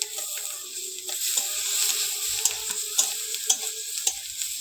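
Chopped onion dropped into hot oil with bay leaf and five-spice, crackling and sizzling steadily up close while a spoon knocks and stirs in irregular taps, with no voices.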